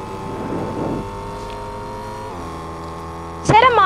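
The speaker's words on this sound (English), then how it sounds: "I'm in a car." A car drives in the Fortnite video game, with a steady engine hum that shifts pitch midway, followed by a brief louder burst near the end.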